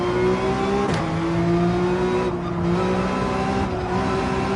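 A race car engine in Gran Turismo 7 holds a loud, steady tonal drone that shifts pitch as the throttle is eased and reapplied, close and continuous.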